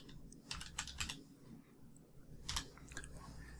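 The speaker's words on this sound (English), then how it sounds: "In your search bar, type in video" Quiet clicks of typing on a computer keyboard come in two short bursts of rapid keystrokes with a pause between, close up and soft.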